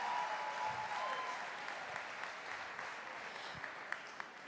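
Steady applause from an audience at a Catholic gathering welcoming Padre Rodrigo, a dense, even clapping wash that holds throughout at moderate distance with a faint tone early on.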